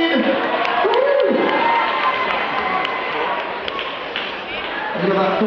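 Crowd at a caravan site show cheering and whooping, a loud, dense swell of voices under an amplified announcer's speech, fading slightly then rising again.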